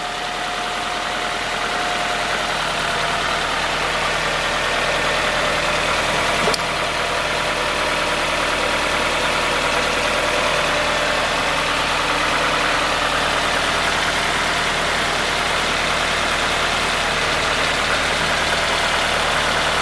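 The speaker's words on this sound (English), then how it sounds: "Car is running fine." Steady, close idle of a 2000–2006 Nissan Pulsar/Sentra 1.8L QG18DE engine after a head gasket replacement, an even continuous hum and rumble holding level throughout with no voices.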